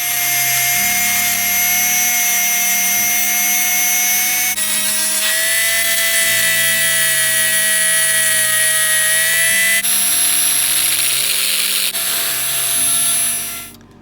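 A power sander works the edges of a bamboo cutting board, giving a loud, steady, high-pitched whine with a continuous drone. The pitch shifts slightly a few times as the pressure changes, and it cuts off at the end.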